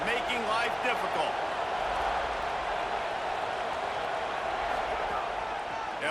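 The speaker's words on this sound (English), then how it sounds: "Now this home crowd making life difficult." A home stadium crowd roars steadily in EA Sports College Football, a broad sustained wash of cheering with scattered claps under a commentator's voice that talks through much of it.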